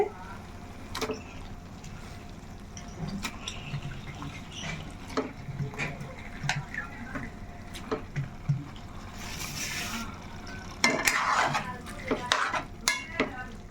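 Chicken pieces go into a cooking pot with stirring, clinks of a utensil against the pot and soft sizzling, as a series of close, irregular scrapes and knocks with a louder clatter near the end.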